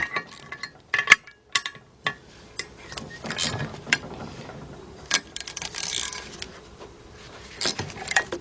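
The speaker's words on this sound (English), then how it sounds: "I'm getting a 13mm deep 3/8 drive, my 3/8 drive ratchet" A 3/8 drive ratchet with a 13mm deep socket loosening bolts on a 2004 Chevy Monte Carlo 3.4 engine during intake manifold work, close bursts of ratcheting clicks and metallic clinks separated by pauses.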